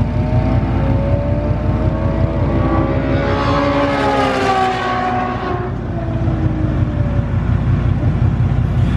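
Ferrari F12 tears past at speed, a loud high-revving engine whose pitch climbs and then drops as it sweeps by close, with a steady rumble before and after and no talk.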